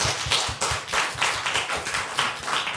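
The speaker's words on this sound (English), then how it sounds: "please, once again, give them a round of applause," A small audience claps at the close of a public discussion session, the individual hand claps distinct and rhythmic rather than blended, moderately loud and steady.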